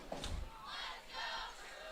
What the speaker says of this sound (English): Loud crowd here in Santa Clara.